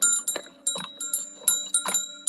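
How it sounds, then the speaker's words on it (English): A small Korean bell rings in a quick series of bright, sustained strikes, each chime ringing on and decaying before the next, close and clear with no talking. "A little Korean bell dingy ding."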